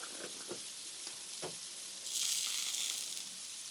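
Hot dogs sizzle on a hot griddle with a steady hiss that swells louder partway through, with a few soft clicks and scrapes near the start.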